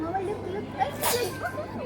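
A single short, sharp sneeze bursts out midway while children talk at a restaurant table in Georgia.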